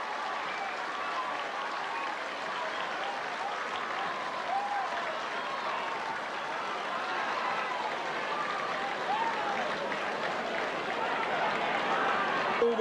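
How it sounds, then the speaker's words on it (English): Sustained crowd applause at a 1987 National Hurling League quarter final between Limerick and Tipperary, steady and broad across the whole stretch with cheering swells, a large outdoor stadium crowd clapping for the hurling players. "Just listen to the applause for these players."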